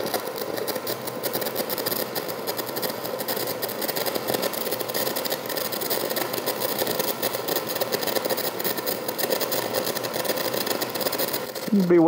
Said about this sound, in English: I want to see how good this thing will weld.